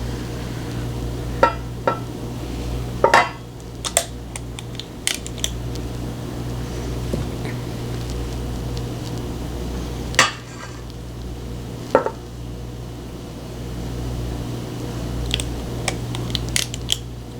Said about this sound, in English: I'm going to go around and put 2 scoops in each cupcake liner